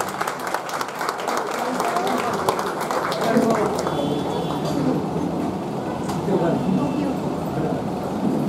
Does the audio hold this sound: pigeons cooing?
no